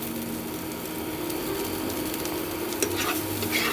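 Bottle gourd peel stir-fries over raised heat in a pan, a continuous close sizzle with soft scraping stirs and a few sharper pops, with no voices.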